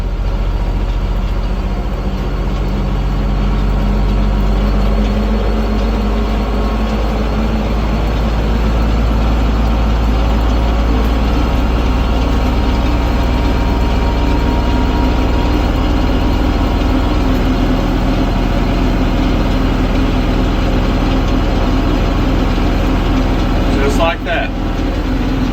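Kubota L3560 tractor engine raised to 540 PTO speed, a loud, steady low drone with a constant throbbing rumble running unbroken throughout and a brief dip near the end.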